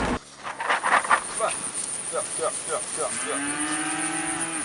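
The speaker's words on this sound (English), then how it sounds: "We have about 55 head of mother cows and 2 bulls." Several beef mother cows moo, some nearby and some farther off, with overlapping calls and a long low moo near the end, against an open outdoor background.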